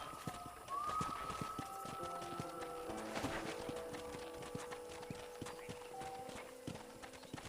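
Horse hooves clip-clop in a rapid, steady rhythm in the Western video game Red Dead Redemption, fairly close and continuous, with faint background tones and a voice briefly calling out.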